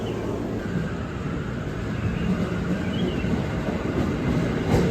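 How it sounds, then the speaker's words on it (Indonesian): A commuter train bound for Cikarang pulls into a station, its low rumble and rolling wheel noise building steadily and growing louder near the end, with no talk. "Nah, ini kereta kita yang menuju Cikarang baru tiba."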